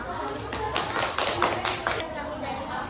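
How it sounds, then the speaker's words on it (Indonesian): Brief applause from a small group of people after a classroom micro-teaching presentation: close, quick hand claps that swell and fade within a few seconds. "Ya, beri tepuk tangan."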